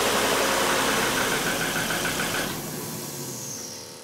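A Volvo five-cylinder car engine, 1993 to 2008 era, runs at a steady idle after an oil change, a continuous close mechanical drone that eases slightly quieter partway through, with no talk.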